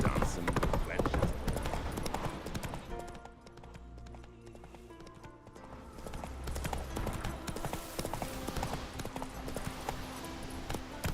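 Horse hooves galloping in the video game The Witcher 3, a steady rhythmic clip-clop under game music and dialogue, fairly quiet in the mix.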